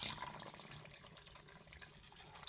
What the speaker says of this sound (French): Je viens rajouter de l'eau